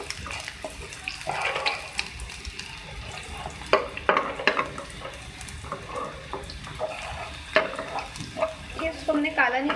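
Garlic frying in white cooking oil in a pan, a soft sizzle with scattered crackles and occasional stirring clatter, heard close up at moderate level with no talking.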